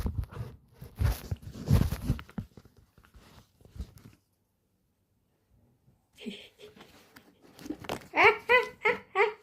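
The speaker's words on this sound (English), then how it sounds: "I shuffle the cards" Angel Tarot cards being shuffled by hand in two papery bursts of riffling and flicking, separated by a short silence, close and fairly quiet, with a voice speaking between the bursts.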